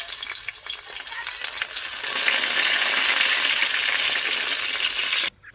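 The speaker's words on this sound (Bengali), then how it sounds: "তাই জন্য বেগুনটা ভেজে নেবো।" Eggplant slices, salted and coated with turmeric and sugar, frying in oil in a pan for a khichuri meal: a steady, loud bubbling sizzle that swells slightly midway and cuts off abruptly near the end.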